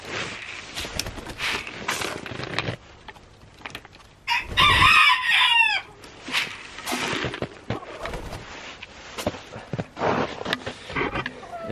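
Hens in a backyard coop cluck and call as they are coaxed out for morning feed, with a loud burst of rooster-like crowing midway and quieter scattered bird sounds around it, close by.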